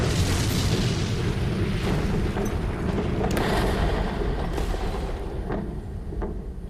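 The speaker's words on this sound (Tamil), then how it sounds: "space X Falcon 9 rocket test ஃபயரின் போது வெடிச்சிடுச்சு" SpaceX Falcon 9 rocket exploding during a static test fire ahead of a communications satellite launch: a sustained, loud, broadband roar and rumble with sharp crackling bursts, continuous throughout and slowly fading near the end.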